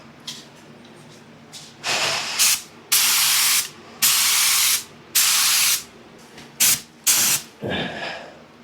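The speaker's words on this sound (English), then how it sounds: "Oh, it's going to be tough spraying underneath that." Urethane primer is sprayed from a spray gun under a Datsun 280Z. Loud, close bursts of hissing spray come on and cut off again, about seven or eight of them, each one to two seconds long, with short quiet gaps in between.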